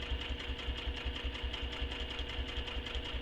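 A sewing machine stitches fabric for a circular bag, running steadily with a fast, even mechanical chatter, faint and close, with no talk.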